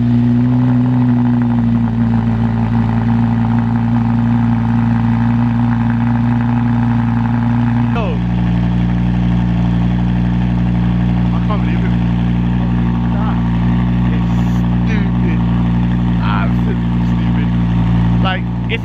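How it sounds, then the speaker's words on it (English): A Lamborghini Huracan with fat quad exhaust pipes idles loudly and steadily after a cold start, a deep constant drone that drops slightly in pitch and volume partway through, with faint clicks above it. "It's a cold start."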